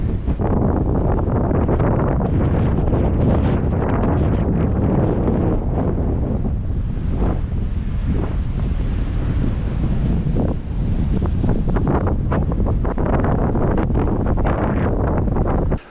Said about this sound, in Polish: jest mocno wietrznie, im wyżej, tym bardziej